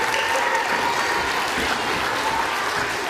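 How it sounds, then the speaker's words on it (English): An audience claps steadily at a wildlife show, dense and sustained applause filling the room for a few seconds. "Everyone give Aaliyah a giant round of applause for helping out."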